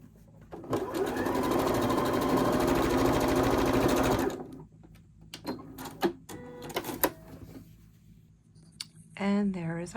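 A sewing machine stitches a quarter-inch seam on a quilt block, a fast, steady mechanical whir for about four seconds, then stops, followed by fabric handling clicks and a short voice at the end.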